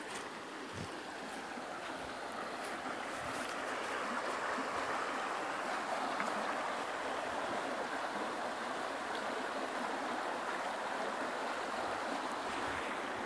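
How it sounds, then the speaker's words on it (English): Fast-flowing water rushes steadily past a spot near a bridge, a broad continuous churning roar that swells slightly after the first few seconds, with no speech. "Look how fast this water is flowing."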